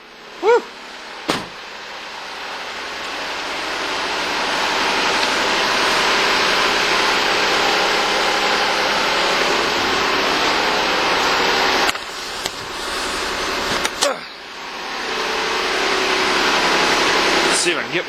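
A Mazda 2.5-liter KLDE V6 idling after a semi-cold start in a family vehicle, a steady engine hum with a rising whine, broken by a few sharp knocks or handling sounds.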